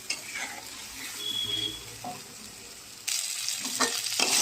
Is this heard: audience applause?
no